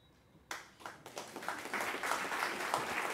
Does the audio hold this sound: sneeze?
no